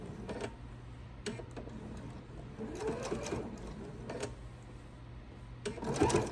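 A sewing machine makes short, spaced bursts of two or three stitches while pivoting around an apron corner, each brief rattling run separated by quiet pauses and soft fabric handling.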